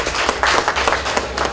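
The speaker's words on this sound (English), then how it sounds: "I want you to give yourselves a round of applause for the organization of such an activity." An audience at an interfaith cultural gathering at ACIC in Guyana claps in a brief, dense burst of applause, many hands patting together close and fairly loud.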